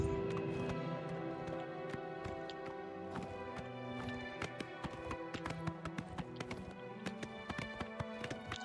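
Horse hooves in Oblivion Remastered, a steady run of light clip-clop beats under a sustained musical drone, quiet and fairly even in rhythm.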